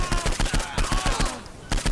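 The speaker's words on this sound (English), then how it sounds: "Here's a SMG. It's a MP5." MP5 submachine gun in Saints Row IV fires rapid bursts of sharp, loud, closely spaced shots, with a short pause before one final burst.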